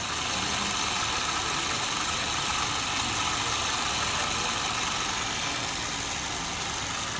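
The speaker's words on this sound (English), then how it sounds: "I recranked the vehicle" A vehicle engine, restarted during fuel-system troubleshooting, idles steadily with a constant low rumble and hiss, heard alone at moderate distance.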